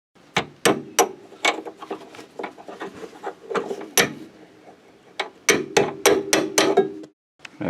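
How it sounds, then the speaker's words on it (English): Metal hammer blows drive a drift around a rubber idler arm bushing on a W126 Mercedes-Benz S-Class, giving sharp close strikes in irregular bursts with short pauses between groups. "I'm just taking this drift and hitting it all the way around to try to get the inner bushing out"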